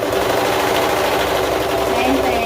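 A sewing machine stitches fabric for a bow headband with a steady, loud, continuous mechanical whir and rapid needle chatter throughout.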